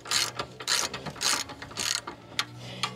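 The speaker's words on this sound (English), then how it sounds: "That's called breaker bar, to break it loose. Okay, so now we're just gonna remove them." A ratchet wrench removes parking brake bolts on a Range Rover 3.6 TDV8, producing close, rhythmic bursts of rapid clicking in four or five strokes followed by a short final click, with no talk.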